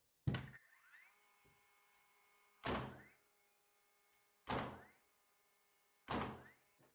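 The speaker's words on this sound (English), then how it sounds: "So we're gonna go ahead and try to shoot an old nominal 2x4 to an old nominal 2x4." A DeWalt DCN920 20V cordless framing nailer drives nails through an old nominal 2x4 into another, firing four sharp, loud shots spaced about two seconds apart, each with a short mechanical whir after it, and quiet between.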